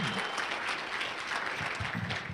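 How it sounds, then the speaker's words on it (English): Audience applause at a corporate team-building training event, a steady burst of clapping filling the room, moderately loud, with faint voices mixed underneath. "Can we give Mr. Seever a round of applause one more time?"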